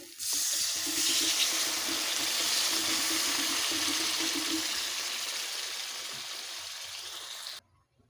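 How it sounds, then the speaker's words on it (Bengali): Water pours steadily into a pan of spiced koi fish curry after the masala has been fried in oil, a continuous close splashing hiss that runs for about seven seconds, then stops. "এবারে দিয়ে দেব পরিমাণ মতো জল"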